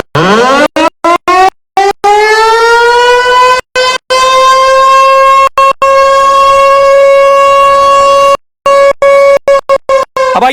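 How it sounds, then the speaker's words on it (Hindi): A loud civil defense siren winds up from low to a steady high wail and holds it, sounding alone with no voices, broken by repeated brief dropouts. "पाकिस्तान में सायरन बज रहे थे, सायरन लगाए गए थे कि जंग की स्थिति में सायरन बजेंगे।"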